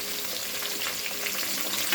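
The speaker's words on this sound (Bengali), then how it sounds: "মাছ ভাজা হয়ে গেছে, এখন নামিয়ে ফেলবো।" Pieces of katla fish frying in a pan of hot oil, a dense, steady sizzle with crackling spatter running continuously and fairly close, no voices over it.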